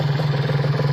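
A modified Kawasaki Ninja RR two-stroke, bored up to 155 cc with a PWK 30 mm carburettor, idles with a steady low throbbing pulse, loud and close for about a second.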